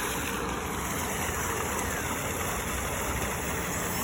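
A homemade RC air boat engine runs at very low throttle, a steady, continuous mid-pitched drone with a hissy wash and no change in level throughout.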